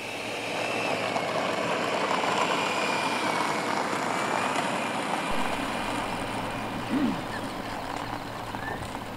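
Freewing B-2 Spirit model jet with twin 70mm electric ducted fans taxiing out for its maiden takeoff on a foggy field, giving a steady, moderately loud broadband whoosh that holds throughout with a slight dip midway.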